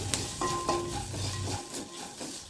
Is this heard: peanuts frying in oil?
yes